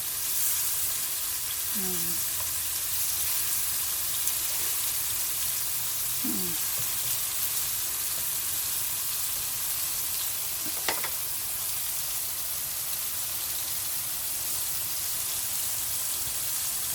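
Shrimp for chili shrimp deep-frying in hot oil, a steady dense sizzle filling the whole stretch with a few faint clinks and stirring sounds on top, close and constant, with no speech.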